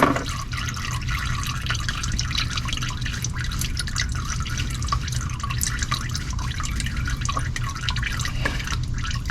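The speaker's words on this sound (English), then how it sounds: "I'm going to let all that nasty oil drain out." Used motor oil drains out of a car into a drain pan during an oil change, a continuous close-up trickling and dripping of liquid that stays steady throughout.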